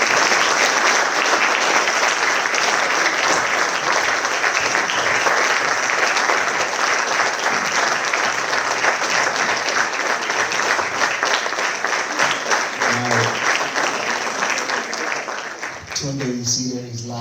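Loud, sustained applause from an audience greeting featured athletes at a documentary screening, steady clapping filling the room for most of the stretch before thinning toward the end.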